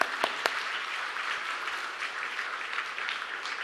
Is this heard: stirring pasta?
no